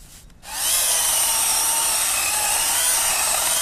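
A Greenworks Pro 60-volt battery chainsaw starts after a brief pause and runs loudly and steadily, its high whine holding constant as it cuts through wood.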